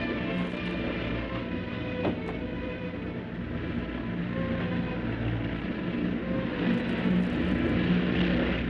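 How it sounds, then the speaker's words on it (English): A propeller aeroplane from a 1930s adventure serial comes in to land near an island cliff fort, its engine a steady, loud drone that holds constant and swells slightly toward the end, with no voices. "An aeroplane!"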